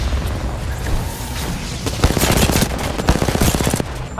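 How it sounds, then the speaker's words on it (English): Rapid automatic gunfire crackles in bursts through a match of the video game Apex Legends, loud sharp shots rattling over a constant background of game noise, with no voices over it. "I'm shooting on them."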